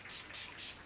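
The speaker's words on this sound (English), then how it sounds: "So you spray it on basically just like your setting spray." Three quick, soft hissing bursts of a Skindinavia makeup primer mist pump, evenly spaced and close by.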